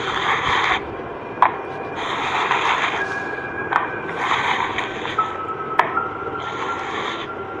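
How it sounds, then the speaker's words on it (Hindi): Strange, uneven footsteps outside a school library as a horror effect: repeated gritty scraping, shuffling steps with occasional sharp taps, fairly close and continuous. "किसी के अजीब तरह से चलने की आवाज़ें सुनाई दी।"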